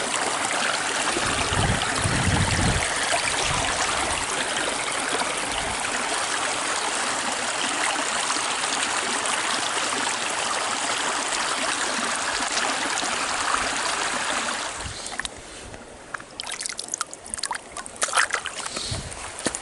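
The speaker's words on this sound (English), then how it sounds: "this creek goes on and on and on" A long California creek rushes and burbles steadily nearby, a broad continuous flow that thins out toward the end into scattered trickles and splashes.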